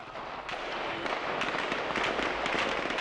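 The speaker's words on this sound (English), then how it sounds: "Taliban fighters shoot live rounds in the air." Live rounds fired into the air by Taliban fighters at a street demonstration by women in Afghanistan: a dense, loud, continuous crackle of rapid overlapping shots with no pauses.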